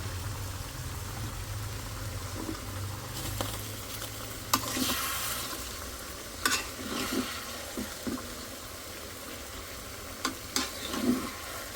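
Leafy greens (saag) cook in a pan with a steady low sizzle, broken by a few sharp clacks and scrapes of stirring; no voices.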